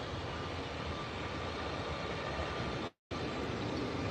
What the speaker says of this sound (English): And rotating nicely, smooth takeoff.